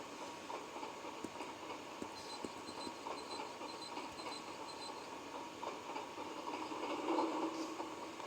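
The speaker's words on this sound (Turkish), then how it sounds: "üstümüze doğru gelen trenlerden kurtulacağız arkadaşlar" Trains rumble and clatter toward the player in an old Hugo video game, a steady rolling rail noise with rhythmic clicks that swells slightly near the end, with no talking.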